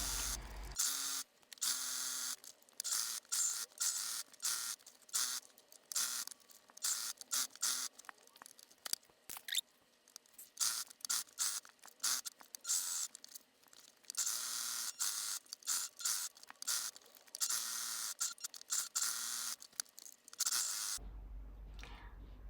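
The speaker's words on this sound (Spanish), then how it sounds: "vamos a coser todo alrededor con esta nueva puntada" A sewing machine with a quilting presser foot runs a new decorative stitch around fabric scraps, close up, in quick stop-and-start bursts of stitching with brief pauses between runs and no talking.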